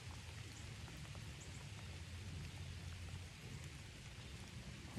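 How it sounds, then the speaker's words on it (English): Steady rain falls outdoors during a deer hunt, a soft continuous hiss of drops with a low rumble underneath, even and unbroken throughout, with no one talking. "Hopefully this rain stops, because I did not prepare for rain."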